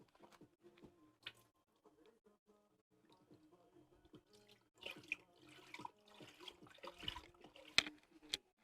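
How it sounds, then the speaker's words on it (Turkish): One litre of 3.5% milk is poured into a pot for a cold baklava, giving a soft liquid gurgle and splash that starts quietly and grows louder and more bubbly toward the end. "1 litre süt katıyoruz"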